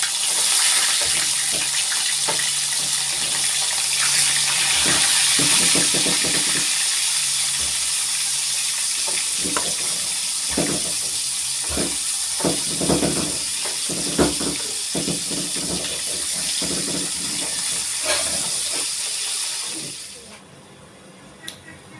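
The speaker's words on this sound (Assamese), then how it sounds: "ইয়াতে তেলখিনি গৰম আছে আৰু মই ইয়াতে মাছখিনি দি আছোঁ" Fish, snakehead, goes into hot oil and fries with a loud, continuous hissing sizzle for about twenty seconds, cut by scattered crackles and pops, then drops away sharply at the end.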